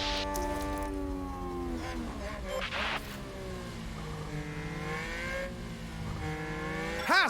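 F1 race cars overtaking in the game F1 Manager 2022, several high-pitched engines whining and shifting pitch together as they pass, with a sharp rising rev near the end.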